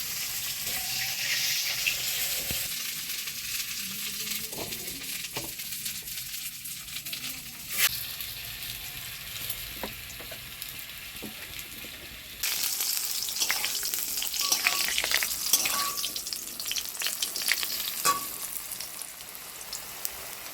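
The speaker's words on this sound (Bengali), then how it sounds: "সোনালি রঙের, সোনালি কালার করে ভেজেছি।" Food sizzles and crackles steadily in hot oil as it fries golden, with a brief clatter and a jump to louder spattering partway through.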